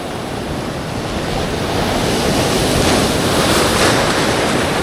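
Rough sea surf churns steadily after a storm, a loud continuous wash of breaking waves with wind noise buffeting the microphone, swelling slightly toward the end.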